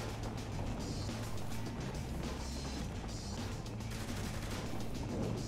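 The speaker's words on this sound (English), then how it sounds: "it's still crazy that we're already shooting people while skydiving in this early in the game" Gunfire in Saints Row: The Third while skydiving over a city, heard as rapid crackling bursts of shots over a steady roar of rushing wind, fairly faint and continuous, with no speech.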